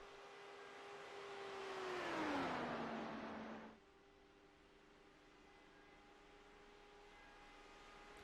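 A race car in an online racing video game lapping Indianapolis during 500K qualifying: a whining engine swells as it nears, then its pitch drops as it passes and gives way to a faint steady hum.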